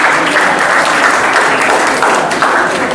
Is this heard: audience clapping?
yes